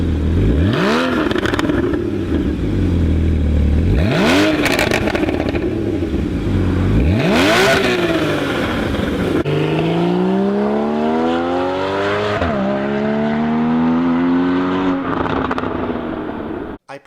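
A Porsche Cayman GTS of the 981 generation with its six-cylinder engine, revved loudly in three sharp rising-and-falling blips, then a long sweeping pull through the revs that eases off and cuts out.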